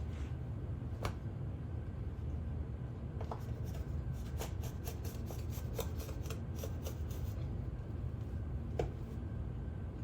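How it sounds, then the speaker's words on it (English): A glass scribe scores lines across a sheet of glass during glass bending work, making a series of short, sharp scratchy strokes that cluster in the middle of the stretch over a steady low background hum. "So I'm just going to put some kind of scribe lines here"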